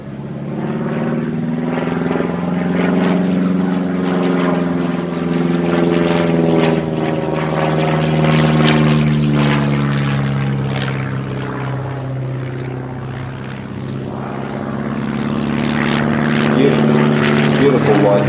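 A Bücker Jungmann biplane with an 80 or 105 horsepower piston engine flies an aerobatic display at an airshow, its propeller drone loud and continuous, swelling and fading in pitch as it manoeuvres, with a voice talking over it.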